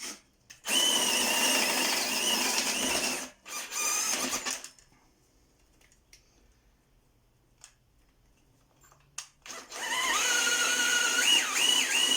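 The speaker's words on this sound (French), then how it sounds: "l'embout SDS, je me mets en mode perçage" AEG BBH18C cordless rotary hammer fitted with an SDS bit in drilling mode, boring into pallet wood in loud close bursts, with one quieter stretch in the middle before a final whining run.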